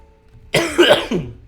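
Three short, rough coughs burst out in quick succession, close and fairly loud, after a near-silent start.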